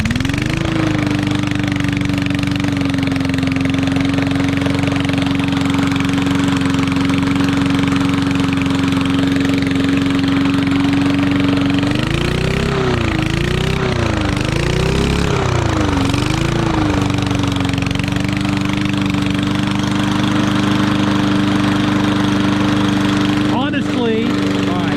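A Yard Machine lawnmower engine missing its muffler runs loud and close at a steady raw idle, briefly surging and wavering midway before settling back to its constant drone.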